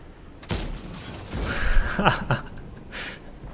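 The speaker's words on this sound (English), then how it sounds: "Can we take out that AMX? Let's see, next shot." Tank cannons fire in the World of Tanks video game, with a sharp blast, then a cluster of cracking shots a moment later and another faint report near the end, all against quiet background rumble.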